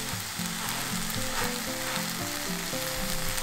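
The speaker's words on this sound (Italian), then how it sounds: "Di qua invece sto scaldando la piadina." Piadina flatbread heating in a hot pan with asiago cheese melting on top, giving a steady close sizzle and crackle with small stirring and clinking touches throughout, no voices.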